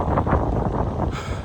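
Gusty wind buffets the microphone in low, rumbling surges during a motorcycle ride, loud and close, with no voices.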